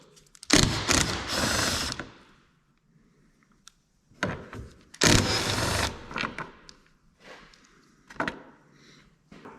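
A hand ratchet backing out T40 Torx screws on a Polaris RZR Turbo S, heard as close bursts of rapid clicking separated by short pauses and faint handling noises.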